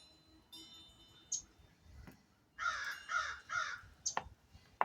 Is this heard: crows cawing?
yes